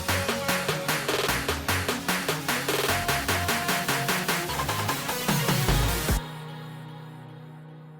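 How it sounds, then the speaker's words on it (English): An electronic song build-up packed with steady claps and tightening snare rolls under pitched vocal chops, rising in intensity before cutting abruptly to near silence with a faint sustained tail. "For the build-up, I use the same claps and snare rolls from the intro and verse"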